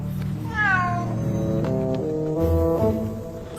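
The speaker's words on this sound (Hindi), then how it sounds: "ये तो बिल्ली है।" A cat meows in a Hindi comedy-horror film scene, a drawn-out rising-then-falling yowl with a long wavering tail over a low background hum, with no talking.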